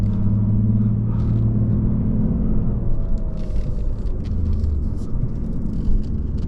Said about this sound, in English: It has a supercharger whine.